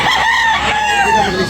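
A rooster crows loudly and close at a chicken market in Tabunok, Talisay, Cebu, one long drawn-out call with other fowl clucking faintly behind.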